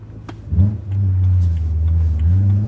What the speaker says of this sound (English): this car, just listen to that engine